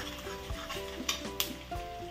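Potatoes are tipped into a hot pan of oil for a mixed vegetable fry, giving a steady low sizzle with a few stirring scrapes and light clinks of utensil on pan, close by and without talk.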